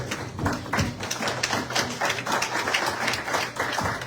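Church congregation applauding during a worship service, steady dense clapping from many hands filling the room, moderately loud and sustained throughout without a break.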